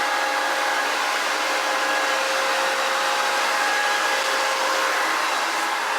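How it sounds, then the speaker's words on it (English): An AC chiller pump runs in the engine room of a 2011 Marlow Explorer 70E yacht, a steady loud mechanical whir with an even hiss and faint tonal hum, continuous and unchanging throughout. "that's actually the AC chiller pump"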